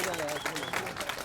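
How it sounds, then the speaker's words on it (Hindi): Children in a school audience clap loudly and steadily at an inclusion event, a dense, continuous patter of many small hands that fills the whole stretch with a faint murmur of voices beneath. "उनके लिए हमारे बच्चे जोरदार तालियां बजाएंगे।"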